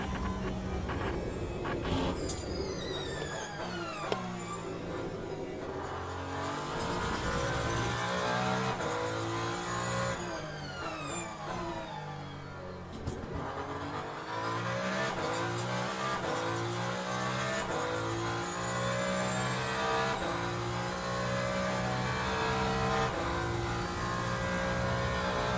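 Hypercars roaring past in the racing game Le Mans Ultimate at Le Mans, a continuous layered engine drone with repeated rising and falling pitch sweeps as cars pass close by.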